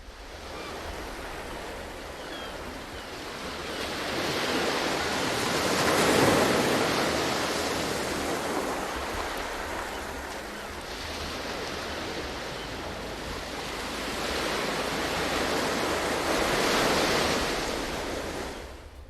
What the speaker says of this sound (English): the beach, and the waves rolling onto the shore